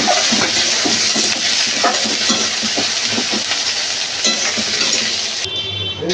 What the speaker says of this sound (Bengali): পেঁয়াজগুলো একটু লাল লাল করে ভালো করে ভেজে নেব